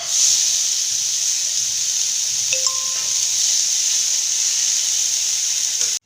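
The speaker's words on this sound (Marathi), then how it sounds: "आता आपण त्यामध्ये आहे ना हे जे मूग आहेत ना दाणे हे ओले आपण हे भाजून घेऊ" Fresh green moong beans roast in a pan that already holds roasted green chillies, giving a steady, even sizzling hiss that carries on without a break from start to finish.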